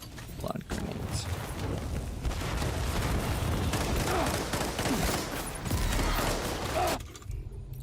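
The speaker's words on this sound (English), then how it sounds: "Let's try blood grenades." Blood grenades in the Death Stranding 2 video game go off in a dense, crackling volley of bursts and booms lasting several seconds, with game ambience and a voice briefly heard underneath.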